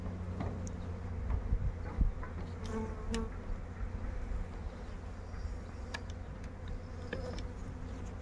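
Honeybees buzzing steadily in an opened queenless hive, a dense continuous drone with a few individual bees flying close past, with no talking.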